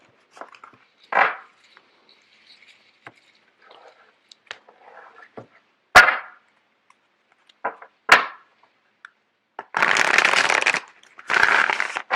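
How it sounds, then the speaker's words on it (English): Tarot cards shuffled by hand in a quiet room: scattered soft riffles and taps, then two longer dense bursts of card flutter near the end, close and fairly loud, with no talking. "Just give me a second while I get the cards shuffled out."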